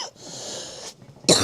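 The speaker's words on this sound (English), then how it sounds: "I'm so sorry for the coughs" A person coughs harshly after smoking a bong, a raspy wheezing cough that trails off, then a sharp, louder burst of coughing close by.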